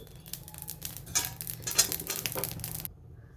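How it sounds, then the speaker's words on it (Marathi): Fennel seeds dry roasting in a pan, a light crackling, scraping rustle with small irregular clicks as they are stirred, fairly close, lasting a few seconds before stopping abruptly. "आता आपण बडीसोप भाजून घेऊ"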